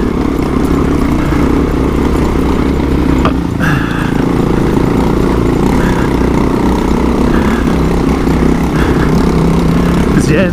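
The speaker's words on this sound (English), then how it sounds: "Yeah, is that the XR struggling, or is that your throttle?" An XR motorcycle labours up a bumpy trail on Mosquito Pass, its engine a loud, continuous rumbling drone with wind buffeting throughout, and riders talking over it.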